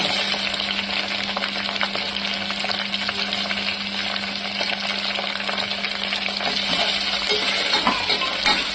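Onion and tomato frying in a pan for pulao: a dense, continuous close-up sizzle with spatula stirring and occasional metallic clinks against the pan.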